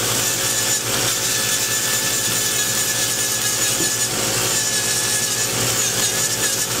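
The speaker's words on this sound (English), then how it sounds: "So we go to the buffing" Rotary buffing tool sanding down a thick, damaged toenail, giving a steady, loud abrasive whir with a gritty rubbing texture that runs continuously throughout, close up with no speech.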